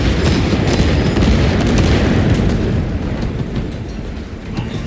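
Artillery barrages in Warhammer 40K: Space Marine 2 give a loud, continuous rumble of booming explosions, heavy and dense at first and easing a little toward the end.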